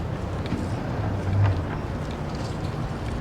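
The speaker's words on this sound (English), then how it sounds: "because it's a little windy still" Wind gusts buffet an outdoor microphone at a street rally, a continuous low rumbling roar with a stronger gust midway, loud and steady throughout.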